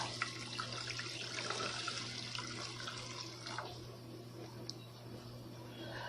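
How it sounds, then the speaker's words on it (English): Water pours steadily into a pot, a continuous close splashing stream over a low hum, lasting several seconds. "I'm adding another cup of water"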